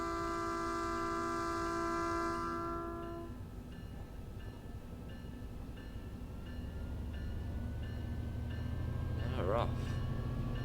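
Metrolink F59PHR locomotive departing on the San Bernardino Line in the Train Sim World video game, with a sustained horn blast at first, then a low engine drone and rolling rumble building as it pulls away, a brief squeal near the end.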